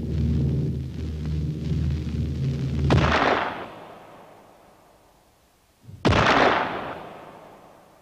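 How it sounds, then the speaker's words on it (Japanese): Two heavy explosion blasts, each a sharp crack swelling into a rolling boom that slowly decays, the first rising out of a low rumbling drone and the second following about three seconds later after near silence, loud and close. "爆音識別レコード。"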